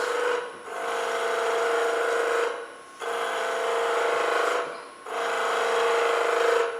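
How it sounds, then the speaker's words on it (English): A skew chisel making planing cuts on spinning wood on a lathe: a steady, loud hissing shave in three long passes, each lasting about two seconds, separated by brief pauses as the tool lifts off. "I'm just gonna use a couple of planing cuts."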